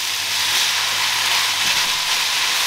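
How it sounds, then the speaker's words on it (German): Onions, garlic, peppers, celery and tomato paste stirred together in a small frying pan, giving a steady, even sizzle and hiss throughout without pauses or talk. "Ich habe jetzt hinzugefügt die Zwiebeln und den Knoblauch, Paprika und Tomatenmark und den Sellerie und die Paprika. Das Ganze wird jetzt untergerührt."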